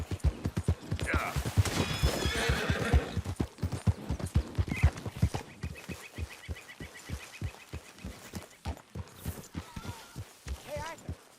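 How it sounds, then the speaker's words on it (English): Horse in Red Dead Redemption 2 clopping along with rapid, close hoofbeats and repeated whinnies, while voices talk intermittently over the steady gait. "get that horse out of here"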